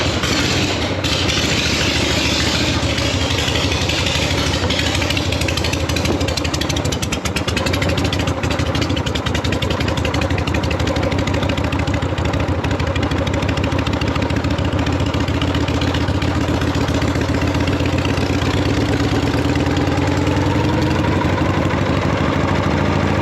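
A 1974 Harley-Davidson Superglide with a Shovelhead engine idles as it warms up, a loud, steady, lumpy throb at close range that runs unbroken throughout with no talk.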